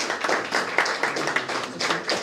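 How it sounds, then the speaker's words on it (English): Audience clapping along at the launch of a library association's strategic plan, a steady, fairly loud spread of handclaps filling the room for a couple of seconds with slight swells. "Let's clap. Let's clap again."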